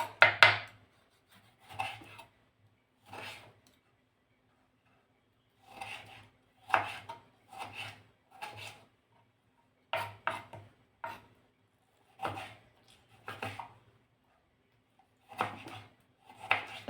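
Tomatoes being finely chopped with a knife on a board, sharp close single cuts and short bursts of chopping spaced out with quiet gaps, no talking.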